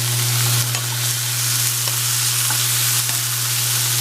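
Garlic sizzles steadily in a hot frying pan while a spicy Mexican shrimp dish is cooked, a continuous close, loud hiss with a few faint stirring clicks and no talking.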